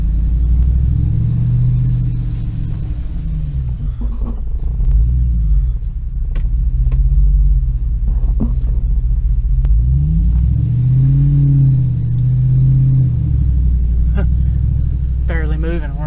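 An LSFJ vehicle engine lugs at low revs in third gear while barely moving, a loud deep droning rumble with slowly wavering pitch throughout, heard from inside the cab with people talking over it.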